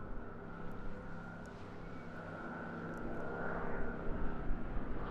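A Hawker Hurricane fighter flying at the Eastbourne International Airshow gives a distant, droning piston-engine hum with a steady tonal whine that swells slightly toward the end, faint and continuous in open air.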